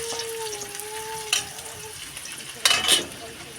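Onion and garlic sizzle in a hot pan with crackling bursts and scraping stirs, while a soft sustained tone runs underneath early on.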